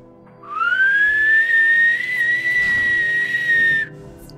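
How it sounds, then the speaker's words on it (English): A single whistle from a character in the video game Skyrim rises quickly, then holds a clear, steady tone for about three seconds before cutting off, with soft game ambience underneath. "That was a good whistle, wasn't it?"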